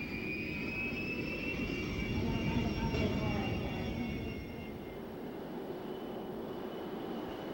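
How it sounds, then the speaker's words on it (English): Two T-37 jet trainers roll out after landing at an air base airshow, giving a steady, loud jet engine whine with a high-pitched tonal hiss over broadband rumble that eases slightly partway through. "let's everybody wave to the two T-37s on landing rollout as they come back into the hammerhead"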